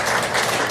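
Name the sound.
congregation applauding to welcome a newcomer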